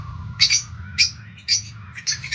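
African lovebirds give four short, bright chirps spaced about half a second apart, clear over a steady low hum in the room.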